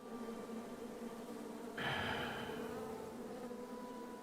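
Insect-like buzzing of bees in the King's Quest video game, a steady faint drone that swells briefly louder partway through, with no talking.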